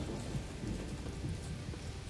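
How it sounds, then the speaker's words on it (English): Steady rain falls on an island in The Witcher 3: Wild Hunt, a dense, continuous hiss of raindrops with a low rumbling undertone, even and enveloping, with no voices over it. "It just rains all the time on this island"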